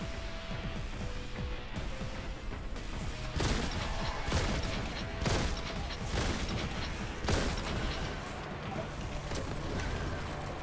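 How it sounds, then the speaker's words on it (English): A shotgun fires repeatedly in the Warhammer 40,000: Boltgun video game, with heavy booming blasts roughly every second over a dense, noisy mix of game combat effects and music. "Let me switch to the shotgun"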